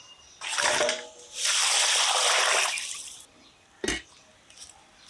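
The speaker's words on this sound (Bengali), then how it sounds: "কেটে নিলাম বেছে বেছে কেটে নিলাম এবার আবারও ধুয়ে নেব" Cut pieces of goat head are washed in water, with bursts of splashing and pouring, a short lull between them, and a final sharp slosh near the end.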